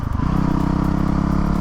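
A 2020 Honda CRF450L engine runs steadily, a low, pulsing mechanical drone that fills the whole moment close up without pause.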